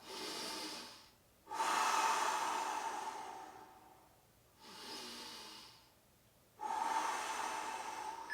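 Heavy panting between exercise rounds, with two long loud breathing bursts alternating with quieter pauses, close up and steady, no talking.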